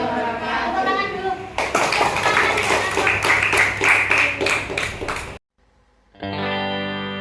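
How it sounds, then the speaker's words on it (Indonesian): An audience claps in a fast, even rhythm for several seconds after a voice speaks. The clapping then cuts to near silence before sustained tones begin. "Tepuk tangan dulu."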